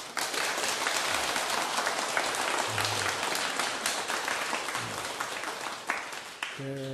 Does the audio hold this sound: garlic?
no